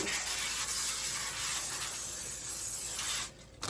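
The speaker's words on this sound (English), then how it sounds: "Let's start by spraying our pan." A steady cooking spray hisses continuously into a pan for about three seconds, then cuts off abruptly, followed by a brief clatter.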